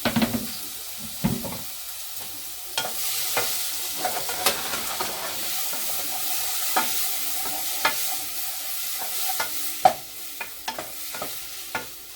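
Peppers and tomatoes sizzle in a pot while a utensil stirs them, producing irregular clacks and scrapes over a loud, steady hiss of frying, with no voices.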